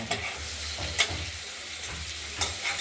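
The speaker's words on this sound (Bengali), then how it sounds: "আমরা আলুগুলোকে ভেজে নেই" Potatoes with turmeric fry in a pan with a continuous soft sizzle, punctuated by occasional clinks of a utensil, nearby and without talk.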